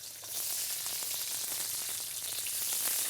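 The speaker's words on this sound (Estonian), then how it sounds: "ja läheb siis vokkimiseks" Onion sizzles in a hot wok during stir-frying, giving a steady, dense crackle and hiss that runs unbroken throughout, close and moderately loud.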